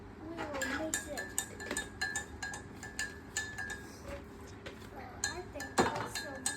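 Spoon clinking and scraping against a container while salt is stirred into water, a run of small irregular metallic clicks up close, with a voice speaking now and then underneath.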